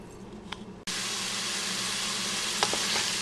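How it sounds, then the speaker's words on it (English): Onions hit hot oil in a pan for harvest soup: after a quiet moment a loud, steady sizzle bursts in and holds, with a couple of small clinks near the end, close and without speech. "So the oil has heated up and it's starting to saute the onions."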